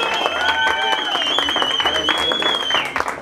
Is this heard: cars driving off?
no